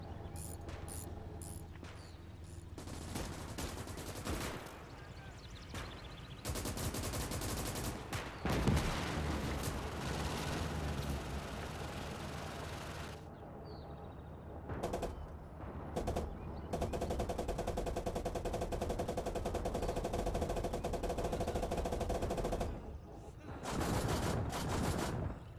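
Machine gun and autocannon fire in the WWII game Gates of Hell: Ostfront, with sustained bursts of rapid automatic shots and heavier booming rounds in a dense battle mix, continuous with brief lulls.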